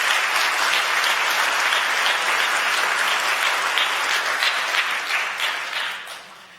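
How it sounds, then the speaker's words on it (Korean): A church congregation at a Sunday worship service claps warmly to welcome newly registered members, a dense, steady roar of many hands that holds for several seconds, then tapers off near the end. "여러분들 환영의 박수 부탁드리겠습니다"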